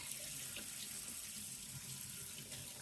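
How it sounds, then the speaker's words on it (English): Water runs steadily from a hose while a synthetic headband wig is rinsed, a soft, even hiss of flowing water at close range with no talking. "we're just gonna turn on the water"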